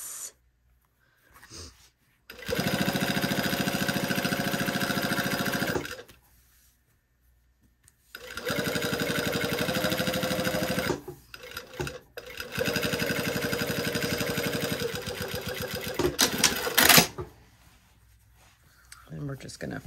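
A sewing machine stitches fabric in three sustained bursts separated by pauses, close and fairly loud, with someone talking briefly between runs.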